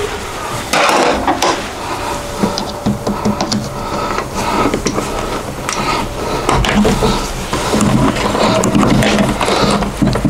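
Wires being screwed into a remote-control switch (télérupteur) terminal: close, irregular small clicks, scrapes and plastic taps from hand tools and wiring, no talk.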